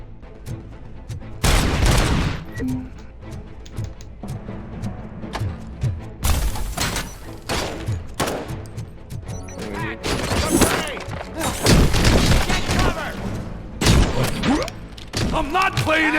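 Gunfire in the RoboCop video game comes in clustered bursts and booming thuds, loud and punchy, separated by quieter gaps, mixed with talking.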